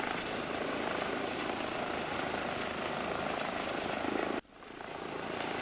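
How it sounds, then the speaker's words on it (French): Simulated EC135 helicopter in X-Plane 11 lifting off near La Rochelle, a steady loud rotor and turbine roar that drops sharply near the end and then builds again, with no one talking. "On décolle, on est reparti."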